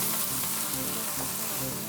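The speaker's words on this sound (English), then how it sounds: "We're gonna start cook these down till they get nice and aromatic and the onions get nice and translucent" Onions and peppers frying in a pan, a steady, soft sizzle with faint stirring scrapes that runs continuously without any voices.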